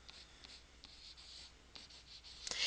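A pen or pencil writes numbers while a math expression is worked out, with short quiet scratchy strokes coming in small bursts, close and alone.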